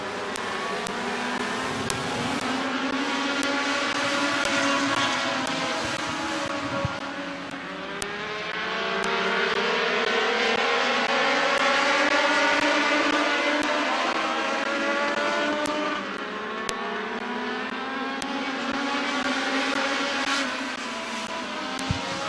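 Race cars lapping Midvale Speedway, a dirt track race, a continuous roar of several engines rising and falling as they pass, loud and sustained with no commentary heard.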